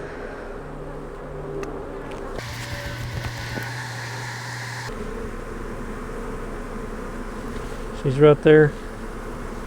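Honey bees buzz around an opened hive during a queen release, a low continuous hum with a few louder close passes near the end. A voice speaks briefly.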